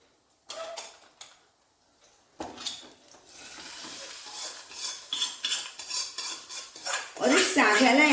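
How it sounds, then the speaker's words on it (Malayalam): Hot oil tempering with green chillies is poured into unheated curd and stirred: a sharp sizzle bursts in, followed by steady clinking of a spoon against the bowl, growing louder toward the end, with no talk. "ഈ തൈരിലേക്ക് നമുക്കിതെടുത്ത് ഒഴിച്ചു കൊടുക്കാം"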